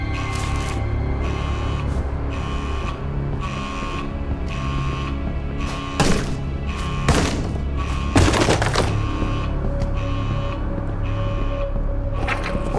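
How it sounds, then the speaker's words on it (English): A door crashing down in the horror video game Edge of Sanity, knocked over by a blaring alarm, with loud thuds and a sharp crash over a steady, droning alarm tone. "the alarm knocked down the door"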